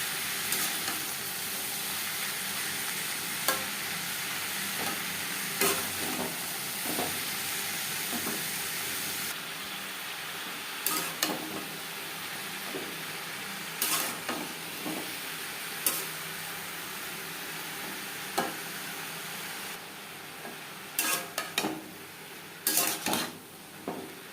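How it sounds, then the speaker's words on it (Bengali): Ridge gourd (chichinga) and browned onion stirred in a frying pan on a gas flame, a steady low sizzle under repeated scraping clinks of a spatula against the pan, fairly close, with no voices. "পেঁয়াজের সাথে চিচিংটা বেশ ভালো করে মিক্স করে দেবেন"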